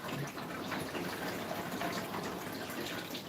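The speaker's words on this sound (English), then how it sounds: "now I pour the stop bath" Stop bath is poured into a Jobo film-developing tank in a darkroom, producing a steady, close gushing and splashing of liquid that continues evenly for several seconds without talking.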